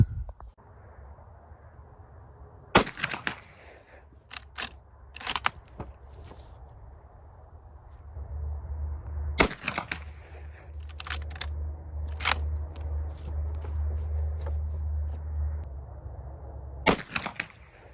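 A few sharp, loud shots from an 1886 Browning 45-70 saddle ring carbine at an outdoor range, spaced several seconds apart, with clicks and clatter of the lever action between them and a low rumble underneath.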